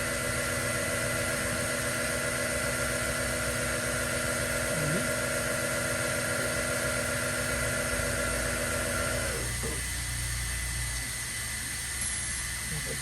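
An OMNITURN GT-75 Series II CNC gang lathe spins at 1000 RPM, a steady machine hum and whine with tonal layers that drops in pitch near the end.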